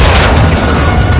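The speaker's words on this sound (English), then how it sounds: "RPG!" A loud, dense blast from an RPG rocket striking a wall during a close-range firefight, a broad roaring boom that fills the whole short moment without a break.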